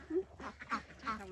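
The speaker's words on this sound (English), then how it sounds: "there's the drake and his white duck" Welsh Harlequin ducks, including a drake and a white duck, quacking close by in a quick series of four or five nasal calls.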